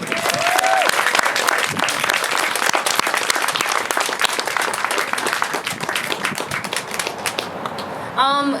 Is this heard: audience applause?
yes